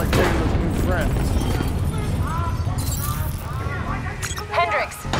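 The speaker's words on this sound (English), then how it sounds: "we have multiple explosions across the facility" Booming blasts and rumbling gunfire-like bursts in a chaotic Call of Duty: Black Ops III scene with multiple explosions across a facility, voices talking over the continuous loud noise.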